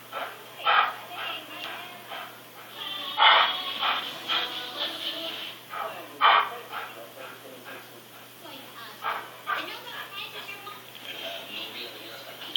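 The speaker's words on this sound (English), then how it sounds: "Now you're just barking to bark." A golden retriever indoors gives repeated short barks and yips spread across the clip, moderately close, with someone talking over and between them.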